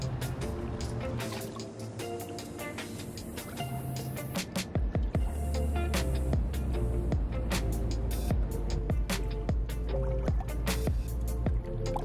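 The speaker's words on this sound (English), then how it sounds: "Tiny little hot tub." Water bubbles and splashes in a tiny apartment hot tub, with steady churning and frequent close drips and plops running throughout, growing fuller and louder partway through.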